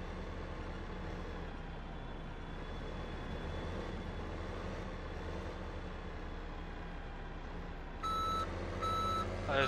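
Truck reversing beeps in the Farming Simulator 2015 video game, a steady tone repeating over a constant engine rumble, with the beeping growing louder and more distinct near the end.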